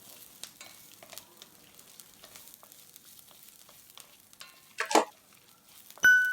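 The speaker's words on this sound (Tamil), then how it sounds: "வெங்காயம் நல்லா வதங்கி வந்துருச்சு." Onions sautéing in a pan for a black urad dal chutney, a quiet sizzle with scattered scrapes and clinks of a spoon stirring, a brief louder scrape near the end followed by a sharp knock.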